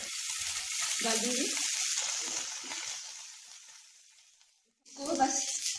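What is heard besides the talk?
garlic and ginger frying in oil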